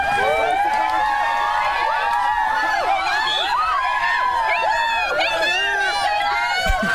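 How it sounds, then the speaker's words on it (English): A crowd gathers outside Taylor Swift's dinner in Surry Hills and shrieks and cheers in an excited, continuous roar of many high voices. Shouts overlap loudly and close at hand throughout. "Have a listen to some of the crowd that gathered outside"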